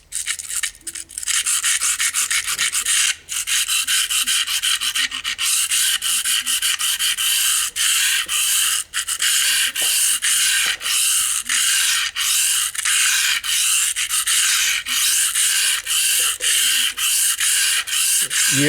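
A blade is rubbed back and forth on an Eze-Lap 400 and 600 diamond sharpening stone, making rapid, steady scraping strokes that are close and loud, with brief breaks between passes.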